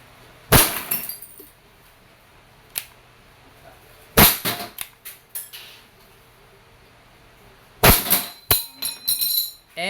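A Wingun 702 airsoft revolver with a 6-inch barrel fires sharp, loud cracks, each trailed by short metallic clicks and rattles. The shots come in spaced bursts, with no talk between them.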